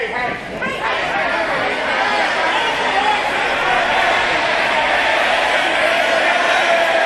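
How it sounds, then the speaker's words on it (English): An independent wrestling crowd jeers and mocks a wrestler, a loud mass of overlapping shouts, chatter and whoops that swells and carries on continuously throughout. "And this crowd mocking Starr"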